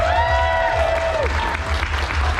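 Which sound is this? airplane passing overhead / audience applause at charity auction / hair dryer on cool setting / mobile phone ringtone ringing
audience applause at charity auction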